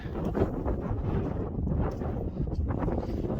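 Strong mountain wind buffets the microphone during a descent near Imja Lake in the Himalaya, a loud, continuous roaring rush with gusty surges and no voices.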